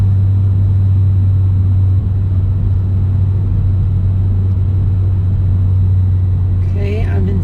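A manual car engine hums with a steady low drone from inside the cabin, heard continuously while the car pulls away in second gear, with a faint higher rise near the end.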